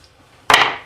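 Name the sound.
hammer striking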